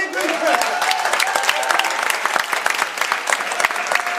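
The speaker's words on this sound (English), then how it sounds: "everyone will give them a huge round of peer group applause." An audience at a mentalism stage show applauds as four volunteers come up on stage, with loud, continuous clapping from a crowd close by.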